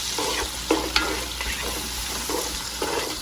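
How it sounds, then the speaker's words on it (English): Celery cooking in a hot pot gives a steady close sizzle, with several scraping stirs of a utensil against the pot coming in irregular pulses, and no one speaking. "I'm gonna throw the celery in next, because another hard vegetable. Alright, we're gonna give that a stir."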